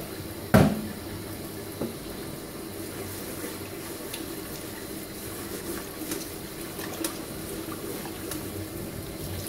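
Steady running water from a tap, rinsing hands over a sink while preparing a smooth toadfish, a continuous faucet wash with a brief louder splash near the start and no talking.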